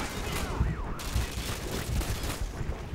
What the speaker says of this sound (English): I like just shooting them off the ladder.